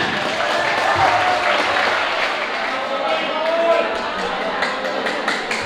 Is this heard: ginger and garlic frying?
no